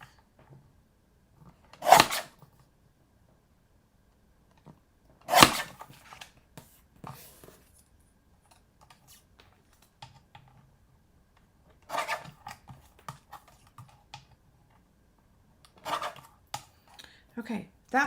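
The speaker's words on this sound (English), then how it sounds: "I'm going to use my teeny tiny trimmer" A small paper trimmer slices through cardstock to cut out a greeting card image: four sharp, close cutting strokes, each followed by light rubbing and handling noises, with a voice talking softly between them.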